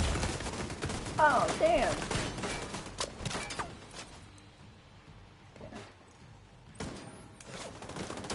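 Gunfire bursts crackle through a Division 2 firefight early on, loud and overlapping, then thin out into quieter stretches with a few later shots, while a player speaks briefly.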